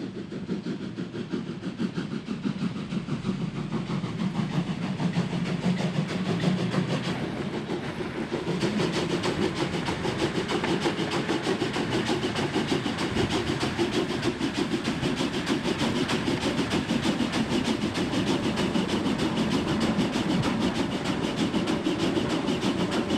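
A train rumbles steadily along the rails of the Rennsteig line toward Ilmenau, Germany, with continuous rolling noise and faint rhythmic clatter sustained throughout, fairly close and without any talk.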